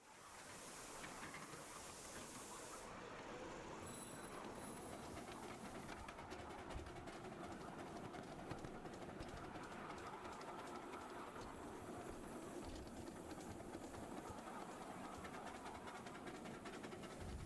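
A miniature Decauville steam locomotive running on rails at a club, with continuous rolling rumble and rapid clickety-clack of wheels over track joints, a brief high whistle-like tone early on, steady and fairly near with no talk.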